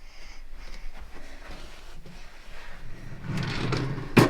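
A bedroom drawer slides open in a freshly decluttered child's room, a soft wooden scrape building near the end and finishing with a sharp knock, close and moderately loud.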